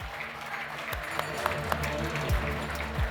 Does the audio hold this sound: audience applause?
yes